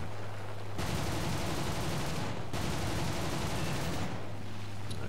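Video game gunfire in steady, dense bursts fills most of the stretch, loud and continuous, with a short break partway through and no talking over it.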